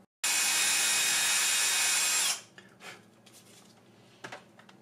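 A cordless drill with a small 1-2 mm bit pre-drills a hole in a wooden Roman catapult model kit, running as one loud, steady whine for about two seconds and then stopping, followed by faint handling clicks.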